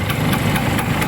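An original 1975 Vespa Super scooter engine runs close and loud, a steady rough idle with a pulsing, slightly knocking low rumble and no talk.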